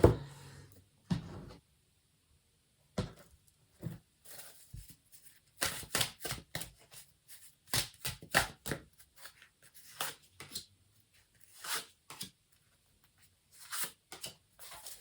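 Tarot cards are shuffled and handled close by in scattered bursts of crisp riffling and slapping, separated by short pauses.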